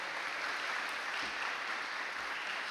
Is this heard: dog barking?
no